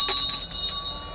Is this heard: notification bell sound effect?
yes